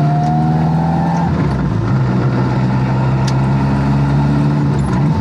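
A four-cylinder Ford Escort engine with ITBs and independent coils, making around 190 at the wheels, holds a loud, steady idle with a strong harmonic drone that dips slightly in pitch partway through, close and alone.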